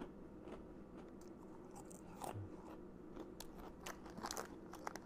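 Crisp crunching and biting of fish crackers, irregular bites close up with small crackles, no talking.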